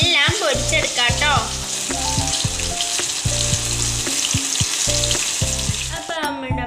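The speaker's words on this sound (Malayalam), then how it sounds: "ഇതുപോലെ എല്ലാം പൊരിച്ചെടുക്കാം കേട്ടോ." Mushroom bajji coated in gram flour batter deep-fries in hot oil with a loud, continuous crackling sizzle, overlaid by a patterned, pulsing sound that could be background music.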